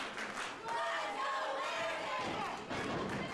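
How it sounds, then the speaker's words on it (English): Wrestling crowd at a Stampede event cheering and shouting in support of a wrestler, a continuous roar of mixed voices and claps heard from within the arena, with commentary talk mixed in. "There's a crowd here in attendance at Stampede trying to rally behind Landon Cruz"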